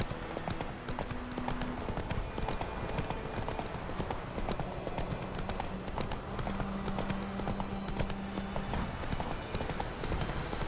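Roach the horse galloping in The Witcher 3, a continuous quick clip-clop of hooves on the ground under dense game ambience, steady throughout with a faint low tone drifting in the background.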